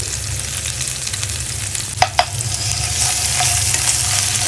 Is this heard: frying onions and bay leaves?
yes